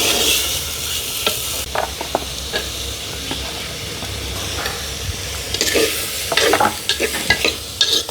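Bilimbi pieces with turmeric are stirred and fried in a pan over a wood-fired stove. Steady sizzling runs throughout, with scraping strokes of the spoon through the hissing and no voices.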